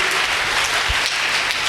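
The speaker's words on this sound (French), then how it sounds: "Si tu comprends, acclame Dieu." A church congregation bursts into applause, a dense, loud wash of many hands clapping together without pause for the full moment, with no voices standing out.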